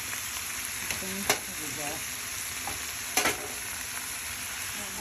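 Ground turkey frying in a pan for homemade tacos: a steady close sizzle broken by two sharper scraping knocks of stirring.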